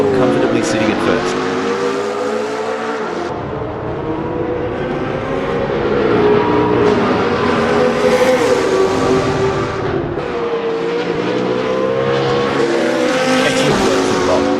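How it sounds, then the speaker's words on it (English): GT3 race cars lapping Bathurst in the Assetto Corsa racing game, engines droning and rising through gears with tire squeal, a continuous loud mechanical roar underneath steady commentary. "The rumble of the engine"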